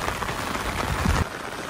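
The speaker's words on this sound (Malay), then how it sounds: "Ini hujan lebat sana di puncak Kayu Duo." Heavy rain pours on a hilltop at Kayu Duo, a dense, steady hiss of falling water close by, with a brief louder patter and no voices.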